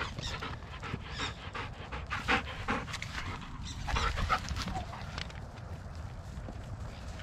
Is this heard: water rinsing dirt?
no